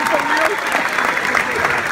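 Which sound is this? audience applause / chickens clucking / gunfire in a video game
audience applause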